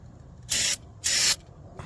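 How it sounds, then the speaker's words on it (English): Brake cleaner sprayed onto leftover glue on a car door panel during sound-deadening work: two loud, steady hissing bursts about half a second apart, each lasting roughly a quarter second, with no talk. "A little brake clean,"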